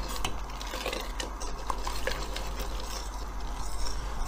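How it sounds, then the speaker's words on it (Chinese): A spoon stirs flour dumplings into mung bean soup in a cooking pot, giving soft continuous scraping and light clinking against the metal, steady and close but fairly quiet. "我们将它搅拌均匀啊，这个要不停的要搅拌，防止这个面疙瘩粘锅啊"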